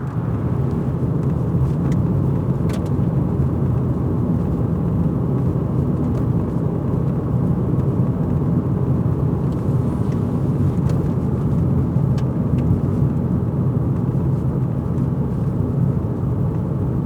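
Steady, smooth engine and road rumble from inside a moving Mercedes-Benz 190E police car, a constant low hum with faint occasional ticks and no voices.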